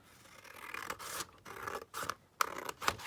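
Scissors snip and scrape through paper around an envelope in a run of short, close cuts. The cuts are quiet and come at an uneven pace, with no voices.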